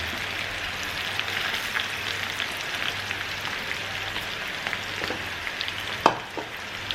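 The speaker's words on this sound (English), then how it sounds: "In a low flame, fry the parwals." Pointed gourd (parwal) pieces fry in oil in a pan over a low flame, giving a steady, soft crackling sizzle throughout, with one sharper clink of a utensil near the end.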